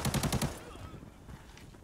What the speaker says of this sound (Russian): Кто-то еще сзади стреляет.